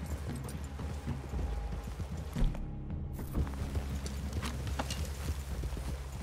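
Several horses clip-clop along in the Red Dead Redemption 2 game, a continuous patter of hoofbeats at a walking pace, close and moderately loud, over a low ambient rumble.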